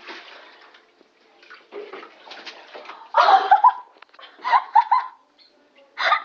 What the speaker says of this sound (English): I'm putting water in your ears.